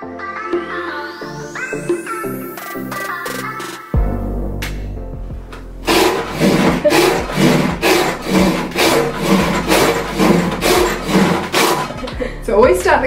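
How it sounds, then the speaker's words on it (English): An Ibuki pruning saw cuts through a small branch in a showroom, giving a loud, rhythmic rasping of repeated strokes after a short stretch of music at the start. "We are going to demonstrate these two saws in our showroom."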